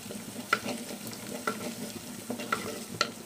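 Curry leaves crackle and sizzle steadily in hot oil in a pan for fish curry, with a few sharp pops and light stirring scrapes standing out above the frying hiss.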